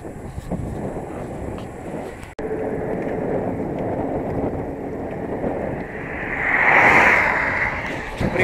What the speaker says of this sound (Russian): Тяжело против ветра